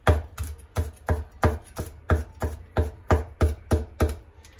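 A heavy cleaver chops garlic cloves on a board in a steady run of about a dozen sharp, close knocks, evenly spaced at roughly three per second, with no voices.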